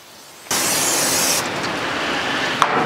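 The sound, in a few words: spray-coating the inside of an electric smoker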